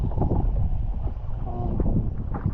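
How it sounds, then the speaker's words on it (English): Strong sea wind buffets the microphone while kayaking off Filfla and the Blue Grotto, a loud continuous low rumble with gusty surges throughout. "it's very windy today. The wind has picked up quite a lot, and Mark's over there fishing."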